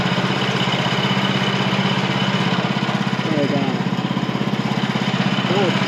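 A Woodland Mills sawmill engine runs steady and loud while the saw works into a large poplar log about 28 inches across, a continuous close droning hum with a pulsing throb and no talk over it.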